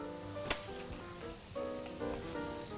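Breaded liver frying in oil, a soft, steady sizzle and crackle heard fairly faintly, with sustained tonal sounds running behind it.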